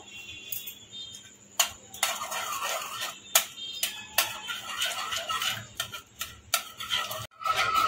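A spoon works through white sauce pasta with cheese in a pan, producing repeated clinks and scrapes against the metal in an irregular rhythm over a quiet background, close and moderately loud.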